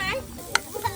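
Onions frying in hot oil make a short burst of sizzling, with a sharp stirring clatter midway and low background sounds.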